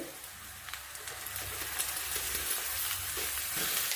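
Soaked chana dal fries in oil with a steady, hissing sizzle that grows slightly louder over time, along with faint stirring and popping, heard up close with no talking.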